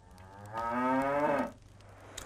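A cow gives one long, loud moo in the Stronghold HD strategy game, lasting about a second against faint game ambience, with no speech.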